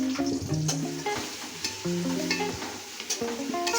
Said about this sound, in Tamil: ரெண்டுமே நல்லா ப்ரௌன் கலர் வர வரைக்கும் வதக்கணும்.